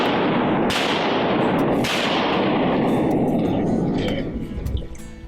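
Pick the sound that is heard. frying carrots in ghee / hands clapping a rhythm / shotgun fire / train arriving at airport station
shotgun fire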